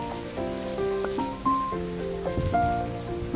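On a rainy day, rain keeps falling onto an empty neighbourhood street in a continuous patter dotted with drips, with no voices.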